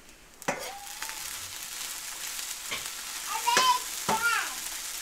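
Gnocchi frying in a pan, giving a steady, close sizzle throughout, with brief faint voices rising over it near the end.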